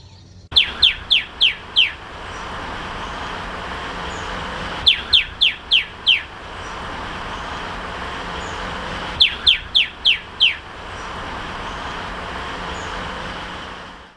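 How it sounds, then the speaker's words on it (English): A white-bellied antbird calls in a Panama forest along Pipeline Road, giving three quick runs of five or so sharp descending whistled notes, evenly spaced, over a steady hiss of background noise. "This white-bellied antbird is a forest bird that we had to work hard for."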